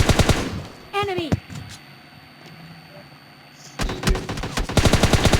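Gunfire in a multiplayer shooter video game, fast bursts of automatic fire at the start and again in a dense rattling run near the end, with a quieter gap between, loud and close.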